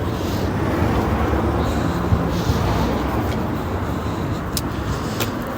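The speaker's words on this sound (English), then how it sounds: "another bus going past" A bus rumbles past on a city street beside a building site, a steady loud roar of engine and tyres filling the whole stretch with faint high clatters on top.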